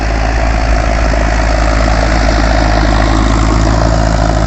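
A loud, steady Mahindra 575 tractor engine drones continuously with a deep low rumble while pulling a tiller, no voices, unchanging throughout.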